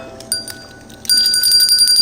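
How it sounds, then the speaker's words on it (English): A small bell rings with bright, sustained metallic tones, a few light strikes and then a louder ringing that holds steady to the end, heard close and alone in a kitchen setting. "ring the bell for that"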